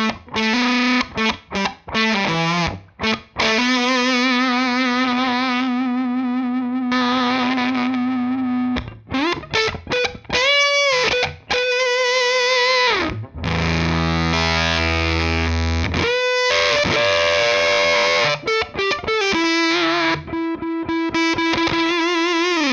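Redbeard Effects Honey Badger octave fuzz pedal with a Les Paul guitar, fuzz lowered and treble raised for a gated, Tone Bender-style tone: loud, sputtering distorted notes and chords played alone, with sharp gaps between phrases.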